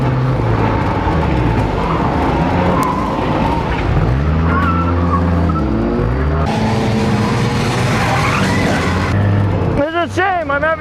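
Racing cars in a nighttime destruction-event skid plate race, engines roaring loud and close with rising and falling revs, scraping skid noise, and a squealing tire burst near the end, under an overlaid voice.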